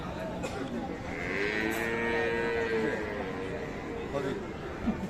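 Sahiwal cows with calves at the Aftabganj cattle market in Dinajpur give a drawn-out low moo at middle distance, heard under nearby talk and the busy crowd murmur of the market.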